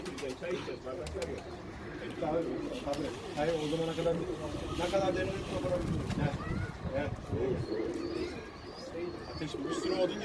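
Pigeons coo repeatedly in soft, throaty phrases close by, under steady talking voices and background bustle.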